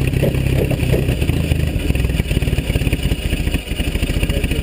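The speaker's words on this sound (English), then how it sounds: "Oh, it's camming. It's loping. Camshaft in it." Jeep Cherokee engine with a cammed, loping idle, running loud and close with an uneven rhythmic chop and clattering pulses throughout.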